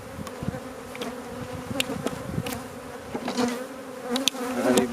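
Honeybees swarm and buzz around an opened hive as brood frames are moved, a dense, steady drone of many wings with individual bees zipping close past the microphone.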